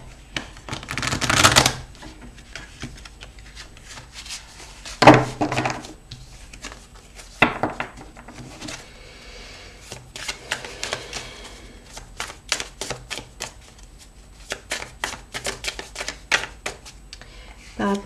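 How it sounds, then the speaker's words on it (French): A deck of playing cards is shuffled in a quiet room, with repeated riffling and soft flicking bursts spread through the clip, close and clear, while a speaker talks softly at times. "il faut que je batte bien les cartes"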